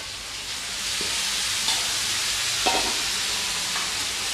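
Duck meat and potatoes sizzle steadily in a frying pan, a loud, even hiss with a few soft clinks of stirring.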